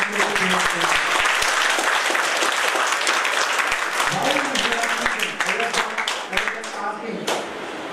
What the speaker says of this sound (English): you have to give him a big round of applause for the initiative